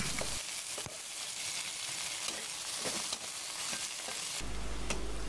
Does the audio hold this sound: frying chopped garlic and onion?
yes